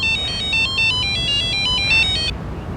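A mobile phone rings with an incoming call, a repeating electronic ringtone of bright pulsed beeps that loops several times, then cuts off abruptly, leaving a faint room hiss.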